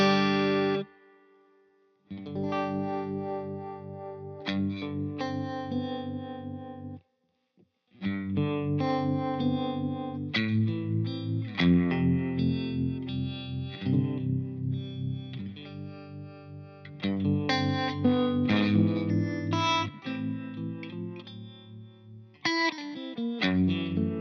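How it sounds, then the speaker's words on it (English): An electric guitar runs through a Keeley Hydra pedal set to harmonic tremolo, playing chords and single notes in phrases with brief pauses, loud and close, with a shimmering processed tone. "I really think it does a very fantastic harmonic trem."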